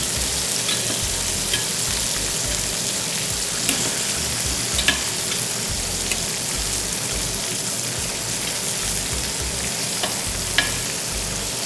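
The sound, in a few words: chicken frying in a pan without oil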